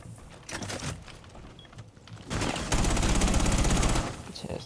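Gunfire in the shooter game Rainbow Six Siege: scattered single shots at first, then loud rapid automatic bursts sustained for a couple of seconds before trailing off.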